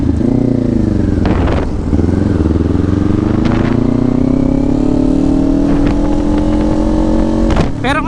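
Kawasaki Ninja 500 SE motorcycle engine, 2024 model, droning steadily with its pitch climbing slowly through a downshift and rev match, a few sharp blips and clatters breaking in, loud and close with no voices.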